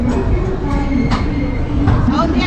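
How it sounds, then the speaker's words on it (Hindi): A Vande Bharat train rushes past the Pushpak Express near Kasara on a ghat section in India, a loud continuous roar of wheels and air with faint rhythmic rail clatter, heard close up from the moving train. "हमारी वंदे भारत निकली पुष्पक एक्सप्रेस को ओवरटेक करते हुए"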